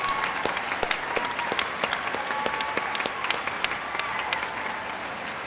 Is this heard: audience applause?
yes